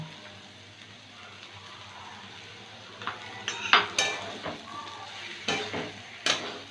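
Oats and a tomato are stirred and fried in a pan, with a quiet low sizzle and then, from midway, a run of close, sharp spoon clinks and scrapes against the metal.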